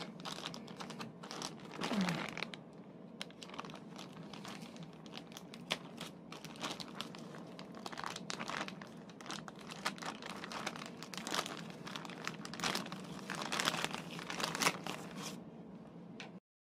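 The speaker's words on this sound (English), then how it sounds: "So, let's unpack it." A parcel being cut open and unpacked, with steady crinkling of plastic packaging, rustling and small tearing and tapping sounds close by for the whole stretch, no talk.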